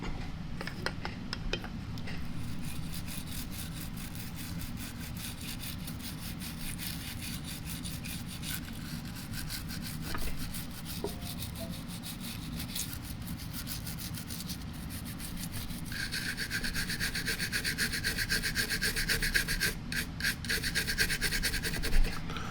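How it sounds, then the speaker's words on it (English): A toothbrush scrubs over gun parts with a continuous close, dry bristly rubbing, steady and unbroken, turning harsher and brighter in the later strokes. "And then with a toothbrush, we're going to work on the rest of it."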